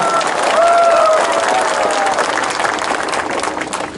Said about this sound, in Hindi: आप अपने आप को भी थोड़ा सा ताली देकर अपने आप को भी क्रेडिट लीजिए